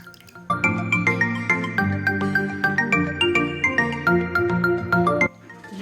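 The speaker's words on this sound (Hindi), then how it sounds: "ये छलनी में रख दिए और इसको तकरीबन 10 मिनट तक पड़े रहने थे ताकि अच्छी तरह पानी निचड़ जाए" Water drips rapidly and steadily from soaked, sliced onion rings resting in a sieve, each drop close and crisp, before stopping abruptly near the end.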